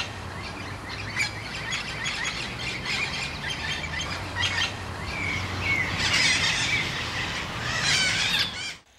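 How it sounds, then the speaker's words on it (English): A festive parrot, an Amazon parrot of the Orinoco Delta in Guyana, calls in squealing, squawking bursts amid a busy wild soundscape of other chirps and steady background hum, growing louder toward the end. "This is the festive parrot, one of the most unique Amazonas parrot found only in the Orinoco Delta"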